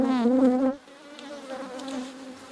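Honey bees buzzing at an open hive foraging on flower nectar, a close loud droning hum that drops suddenly to a quieter, steady buzz of the swarm.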